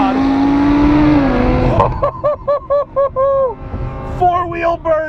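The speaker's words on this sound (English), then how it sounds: "Four-wheel burnout." A supercharged Lamborghini Huracan roars loudly in a sustained high rev, then blips through a rapid series of sharp, evenly spaced revs as the four-wheel burnout begins, all close and loud.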